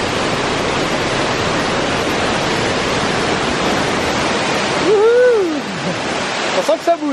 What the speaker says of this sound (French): La cascade, effectivement, ça a l'air d'être carrément pas mal.